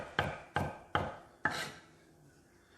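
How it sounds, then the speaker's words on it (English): A knife chops garlic on a cutting board in four sharp, evenly spaced strikes with a short pause before a fifth begins, close and crisp, with no voices. "Chop it up fine."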